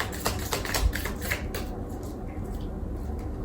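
A deck of tarot cards is shuffled by hand. Quick, rattling flicks and papery clicks run in a rapid burst, then thin out toward the end, close and fairly clear.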